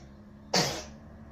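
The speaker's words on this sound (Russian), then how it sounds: "И чихает, сопли." A young child gives a single abrupt sneeze, close and sharp, over a quiet steady background hum.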